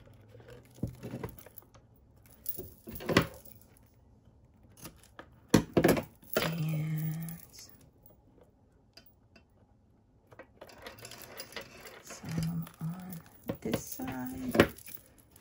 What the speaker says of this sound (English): So we'll put double-sided tape on this side